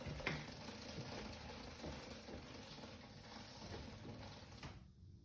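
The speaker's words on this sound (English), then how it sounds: "So here's spinning the rear wheel." A 2003 Honda RC51 motorcycle's rear wheel spun by hand gives a steady mechanical whirring with a faint ticking running through, close and fairly quiet, until it cuts off just before the end.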